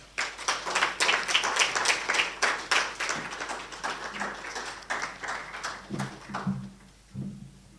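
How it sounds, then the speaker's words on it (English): Applause breaks out in a hall at a university hackathon prize-giving ceremony as the winning team is called on stage, a crowd of claps that thins out after a few seconds before a voice begins speaking. "can we give them a round of applause?"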